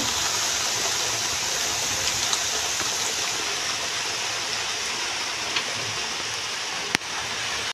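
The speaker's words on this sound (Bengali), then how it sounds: "বাইরে কিন্তু প্রচুর বৃষ্টি হচ্ছে বন্ধুরা দেখো প্রচুর বৃষ্টি হচ্ছে" Heavy rain pouring outside makes a dense, steady hiss that holds evenly throughout, with one sharp click near the end.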